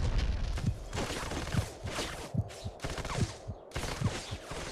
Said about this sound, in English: Get missiled since you don't want to comply to my bullets.